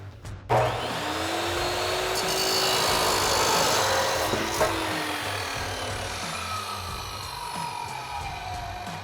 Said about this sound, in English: So now that we have our line marked and our blade lined up, we'll go ahead and cut it.